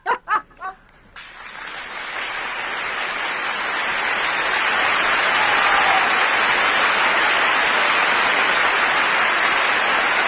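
A few short bursts of laughter open the clip, then applause breaks out and swells to a dense, sustained clapping that lasts to the end.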